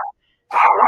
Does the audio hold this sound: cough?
no